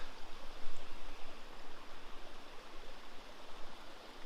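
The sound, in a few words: flowing creek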